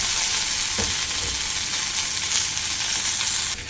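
Tomatoes sizzling in a pan of browned onions for a Hogenakkal-style fish curry, a steady dense frying hiss running the whole time with a couple of soft low thumps from stirring, close and alone.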